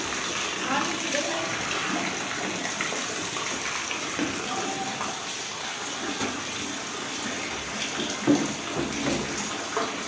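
Floodwater from upstream rushes through a village and into flooded houses, a loud, continuous roar of flowing water with faint voices talking underneath.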